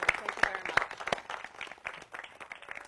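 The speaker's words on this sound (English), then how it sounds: "she deserves a big round of applause." An audience at a political campaign event claps, with a few loud, distinct hand claps standing out near the start, then looser, thinner applause continuing quietly under some murmuring voices.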